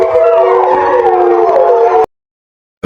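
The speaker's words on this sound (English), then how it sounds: "it's just wolves out there howling all day" Wolves howl together near a remote cabin. Their sustained, wavering howls overlap loudly for about two seconds before cutting off into silence.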